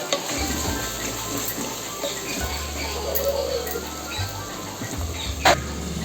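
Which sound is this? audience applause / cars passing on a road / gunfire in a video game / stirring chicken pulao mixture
stirring chicken pulao mixture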